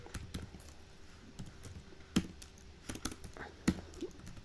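Keys tapped on a computer keyboard while coding: quiet, sparse clicks in short irregular bursts, alone in a hushed room.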